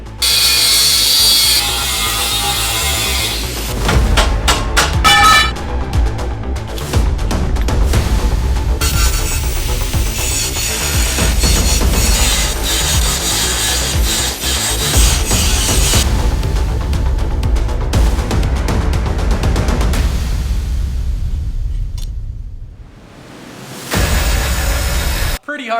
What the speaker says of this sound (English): Pretty hard to cut with a hard disc